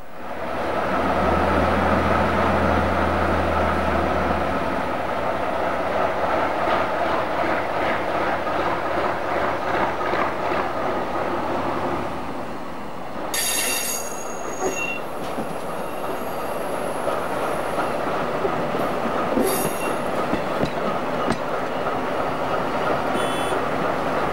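A Picasso X-3800 diesel railcar pulls away from a station along main-line tracks, its engine a steady loud rumble with rolling wheel noise and a few sharp squeals and clatters over the rails.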